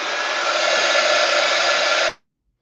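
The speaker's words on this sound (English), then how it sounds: "I could probably dry that out with the" A steady, loud blast of a hair dryer blowing air for about two seconds, then abruptly switching off into silence.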